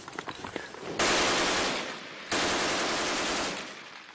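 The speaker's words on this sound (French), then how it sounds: "Des coups de feu ont été entendus pas très loin, mais c'était peut-être des tirs amis." Two loud, close bursts of automatic gunfire crack out near a garage in Mosul, each lasting about a second or more, with sharp single shots just before.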